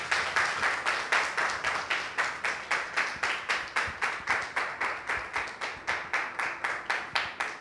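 A crowd at an event claps in a steady, rhythmic unison beat, about three or four claps per second, sustained and fairly loud throughout without a break.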